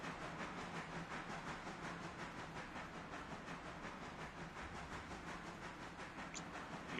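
Steam locomotive number 8 in the railroad game Railroader passes at night, a steady hissing rush with rapid rhythmic chuffing and faint clatter that holds level throughout.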